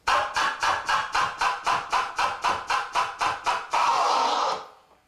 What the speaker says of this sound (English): Now I'm incorporating the use of the fader.